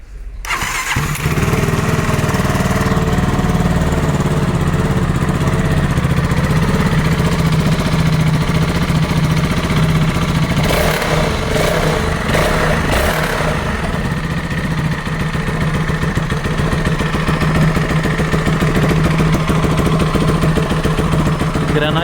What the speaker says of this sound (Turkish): Bir de motor çalıştıralım, sesini duyalım.